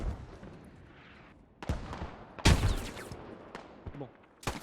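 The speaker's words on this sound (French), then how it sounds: "Je me fais tirer dessus." Gunfire cracks out in sharp, loud bursts during a team match in a shooter game, several shots spaced irregularly with one heavy volley near the middle, while players talk intermittently.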